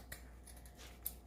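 Scissors snip through the back of a handmade festive fall wreath, two quiet, brief clips about a second apart in an otherwise hushed room.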